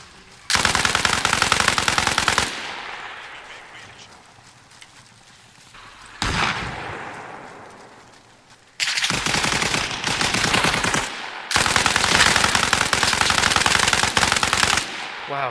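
Machine gun fire in a video game, long sustained loud bursts of rapid automatic shots separated by decaying echoes, with an occasional single shot between volleys.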